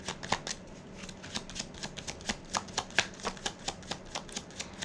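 Tarot cards are shuffled by hand in a quick, rhythmic series of crisp riffling flicks and slaps, close and steady, with no talk over them.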